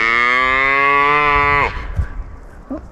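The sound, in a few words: cows mooing in a pasture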